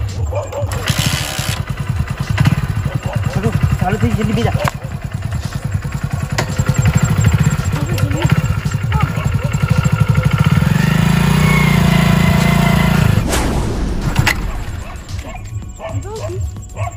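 A motorcycle engine running and revving, with dogs barking nearby and people talking over the engine noise.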